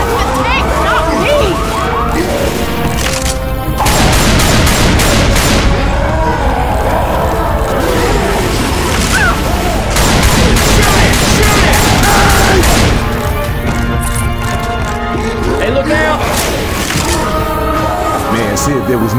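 Dense, sustained gunfire in Left 4 Dead 2 aimed at the towering Tank, loud and nearly continuous with crashes and impacts, while players talk and shout throughout.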